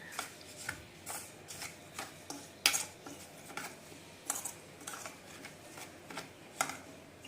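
A utensil stirs a paste of mustard, poppy seed and green chili, giving light scrapes and small clinks against the container. The strokes are quiet, close and irregular, and no one speaks.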